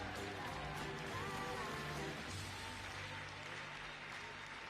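Audience applause for ballroom dancers after a standard final at a WDSF dancesport event in Belgrade, sustained, faint and distant across a large hall, with a low background hum and no clear voices.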